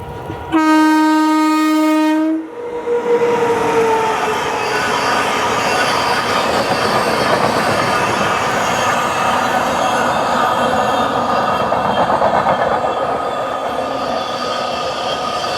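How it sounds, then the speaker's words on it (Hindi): An Amrit Bharat Express passes on the crossing track: a long two-tone train horn opens, then a loud, steady roar and rumble of coaches rushing close by, heard from aboard another train. "crossing Udhna Brahmapur Amrit Bharat express"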